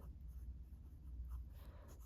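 A fountain pen with Diamine Red Robin ink scratches quietly across paper in soft, continuous strokes, close and faint, with no talking.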